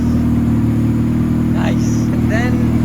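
A turbocharged Toyota 1JZ engine swapped into an EG Honda Civic idling for the first time, a steady low rumble throughout, with faint squeaky chirps from a voice or other source briefly heard over it.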